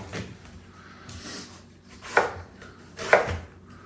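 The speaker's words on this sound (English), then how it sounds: "1 onion. We're going to put half in each. Rough cut into the middle." A kitchen knife rough-cuts a whole onion on a cutting board, two firm chops standing out against quieter handling and small knocks, fairly close.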